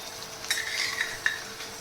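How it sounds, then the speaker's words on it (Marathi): Ground masala paste being stirred and fried in hot oil for an egg masala gravy, a soft crackling sizzle with a few spatula scrapes against the pan, close and fairly quiet. "वाटण आता मी या तेलामध्ये छान परतून घेणार आहे"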